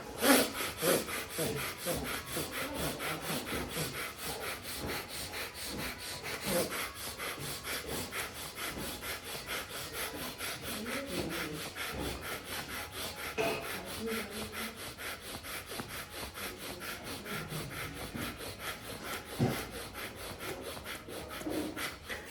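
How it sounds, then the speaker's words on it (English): Hands rubbing up and down the sides of the arms during a seated breathing exercise, a continuous close rhythmic swishing friction lasting throughout, with faint breathing underneath. "Now rub the sides of your arms as you breathe in and out."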